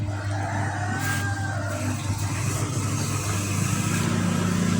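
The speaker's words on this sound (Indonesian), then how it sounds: "Ini akan saya pelintir gasnya" A motorcycle engine with a sputtering fault and a blinking check-engine light idles and revs as the throttle is twisted. The drone is close and continuous, with a low rumble and faint background noise.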